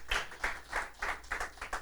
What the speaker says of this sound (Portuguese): Aplauda o Senhor, glória a Deus.